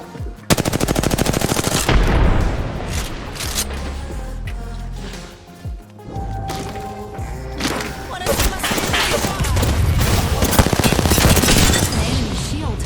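Bursts of automatic gunfire and scattered shots crackle in a video game firefight, loud and dense for most of the stretch with a short lull midway and a voice now and then.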